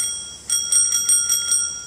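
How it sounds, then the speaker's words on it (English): A bicycle bell on a scrap-built electric bike rings about six bright, quick dings in a row, close and clear, after a brief quiet start. "good old bell on there"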